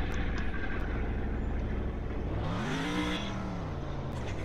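A virtual car engine in the Roblox game revs up, its pitch sweeping sharply upward then falling away, loud and close over a constant droning engine tone, with no voices.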